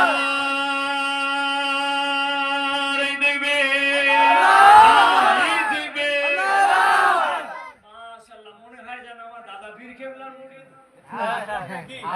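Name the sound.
crowd shouting a chant in response to the call Naraye Takbir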